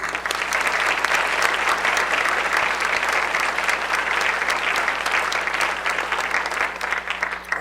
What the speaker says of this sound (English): So let's applaud not only these 4, but everybody who's been publishing great stuff this last year.